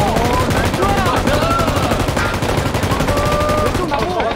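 An M249 machine gun in a video game is fired from a moving vehicle in one long, unbroken rapid burst of about 200 rounds, loud and dense. Engine noise and voices sit underneath.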